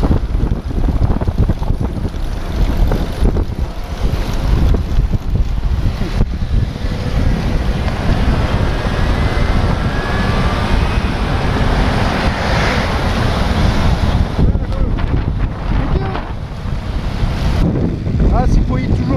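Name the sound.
wind and waves on the Black Sea from a sailboat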